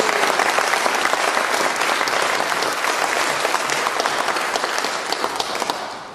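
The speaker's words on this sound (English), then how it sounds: "let's clap for him" An audience bursts into steady, dense applause, many hands clapping together loud and close for several seconds before tapering slightly at the end.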